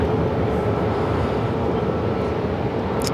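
A Southwest Airlines Boeing 737 MAX 8 arriving from Ontario, California, at Phoenix airport, heard as a steady, broad jet roar that holds level throughout, with no voices.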